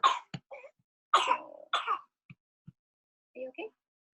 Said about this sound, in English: There's a little cough.